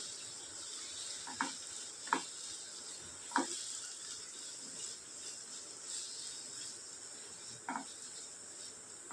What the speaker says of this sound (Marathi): कांदा आपल्याला छान फ्राय करून घ्यायचा आहे, परतून घ्यायचा आहे.